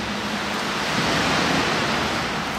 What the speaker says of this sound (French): écoutez juste le bruit de l'eau qui résonne dans cette pièce-là